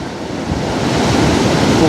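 Sea waves breaking on the shore during sea fishing, a loud continuous roar of surf and wind that swells slightly toward the end, with no voices.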